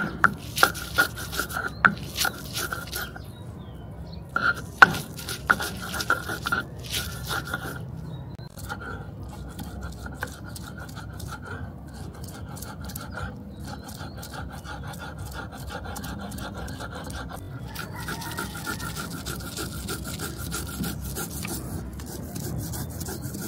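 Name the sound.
grinding spices on a stone shil pata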